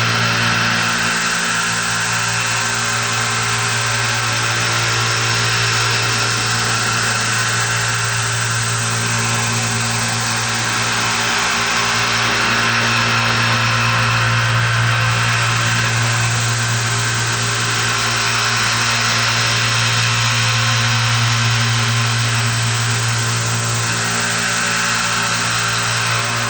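A knife edge ground on a 400 grit belt sander during professional sharpening, a loud continuous whirring hum from the running belt that holds steady throughout, with no talking.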